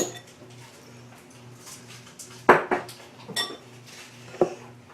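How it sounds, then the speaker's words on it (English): Dry cookie ingredients such as flour, salt and baking soda mixed in a bowl for Reese's peanut butter cookies: soft stirring with a few sharp clinks of the utensil against the bowl, close and quiet, without speech. "We'll mix this together and set it aside."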